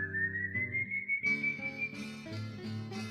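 A person whistles a melodic tune alone, a clear close tone sliding gradually upward and then continuing in short steady notes over a soft accompaniment.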